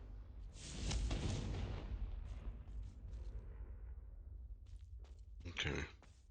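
A Confringo blasting spell explodes in Hogwarts Legacy, a loud broadband boom that swells and rumbles for a few seconds, followed by a shorter second burst near the end.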